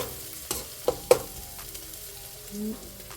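Hot pepper stirred into a sizzling pot of cooking food: a steady frying hiss with a few sharp spoon knocks and scrapes against the pot.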